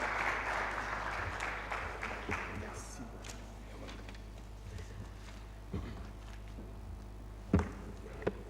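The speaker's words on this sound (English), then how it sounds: "Round of applause for David as it comes." An audience at an alternative investments conference claps for a panelist. The applause is moderately loud at first, then thins and fades within a few seconds, leaving quiet room tone and a few scattered thumps and taps.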